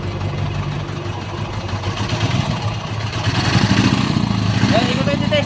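A motorcycle engine fitted with two carburetors runs nearby at a steady, rough idle with a clattering mechanical rhythm that swells slightly louder toward the end, while someone talks over it.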